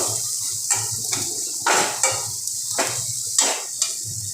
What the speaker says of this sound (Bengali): ভালো করে নেড়ে চেড়ে মশলাটাকে ভাজা করে নেব